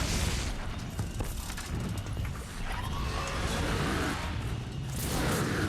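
A bomb strikes a machine in Horizon Zero Dawn, heard as a rumbling boom and whooshing debris layered over dense, loud game noise and mechanical clatter with no clear talk.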